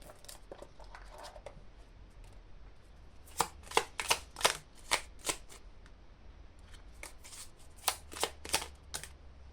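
A small color oracle deck shuffled for a card reading, two close clusters of quick papery riffles separated by a short pause, with no talking.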